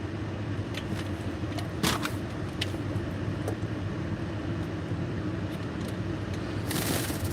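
Car interior while driving, a steady low road and engine rumble running throughout, with a brief rattle near the start and a brighter burst of noise near the end.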